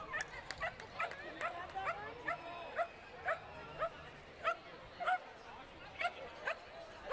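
A dog at the Fort Erie Racetrack barks and yips in a steady run of short, sharp, high calls about twice a second, fairly clear over quiet background.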